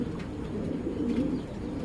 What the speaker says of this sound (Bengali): মাদিটা পুরো মুস্তি হয়ে রয়েছে, হাত দিলে ডাকবে দেখবেন